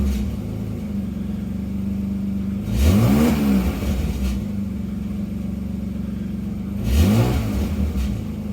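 A car engine with an exhaust valve stuck open idles roughly up close, then revs up and drops back twice in two distinct bursts, with a rattling heat shield.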